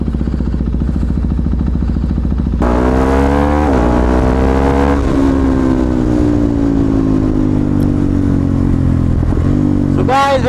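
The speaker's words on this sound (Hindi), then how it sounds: "अभी करते हैं बाइक कोल्ड स्टार्ट" A third-generation KTM Duke 390 with over 10,000 km on it idles loudly from a cold start, then the engine note jumps up and revs rise and fall close by.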